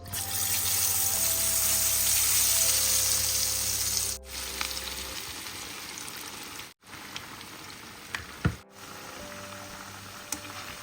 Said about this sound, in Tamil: எண்ணெயில் போட்டு நம்ம பொரிக்கலாம்.